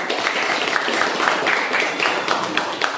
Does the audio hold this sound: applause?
yes